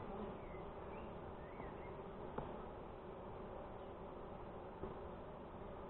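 A dense, continuous hum of honeybees fills an open hive during a brood inspection, steady and close, with a couple of faint clicks from frames being handled.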